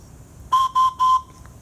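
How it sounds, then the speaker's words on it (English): A homemade whistle blown in three short, loud, steady bursts with brief gaps between them, heard up close against a quiet background. "Okay, this whistle is working fine."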